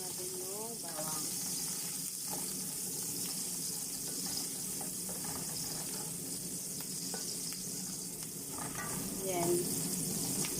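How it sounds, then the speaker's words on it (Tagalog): Garlic sizzling in oil in a pan while pancit noodles with mushroom are cooked, a steady bright hiss with occasional stirring scrapes and a voice talking over it now and then. "Pag i-tempura na, idagdag natin yung bawang."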